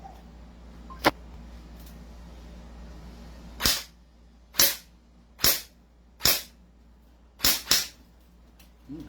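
An M4A1 carbine airsoft gun fires single semi-automatic shots outdoors, about seven sharp snapping cracks spaced irregularly, mostly in the second half, over quiet background.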